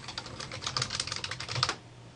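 Quick bursts of keystrokes on a computer keyboard while text is entered in a design program, light and close, then stopping abruptly.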